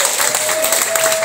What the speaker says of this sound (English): give yourselves a round of applause for supporting live comedy today